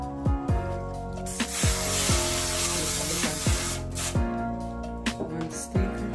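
Cooking spray hisses in short repeated bursts onto a baking tin, each spurt close and fairly loud, with hiss filling the gaps and a few light knocks between sprays.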